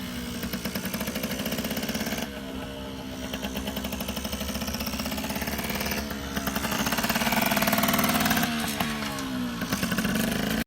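A 1974 Yamaha YT80 trials dirt bike's small engine buzzes loudly and continuously while being ridden, its rapid chattering pulse rising and falling as the throttle changes, with no voices.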